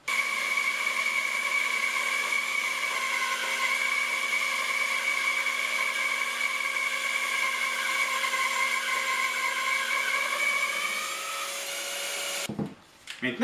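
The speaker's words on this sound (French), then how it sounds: "je vais d'abord éliminer une petite épaisseur de chaque extrémité dans le but de nettoyer mon bois et éliminer ce qui est déjà fendillé" Power tool trimming the split ends off a wooden log, a loud, steady high whine with droning harmonic tones running continuously up close for about twelve seconds, then cutting off.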